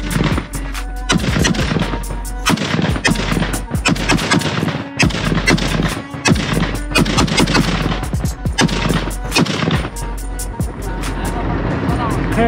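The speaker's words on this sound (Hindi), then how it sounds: "try shooting some AK-47." An AK-47 rifle fires in loud, close bursts and rapid single shots that crack repeatedly over the whole stretch, with brief gaps and voices talking underneath.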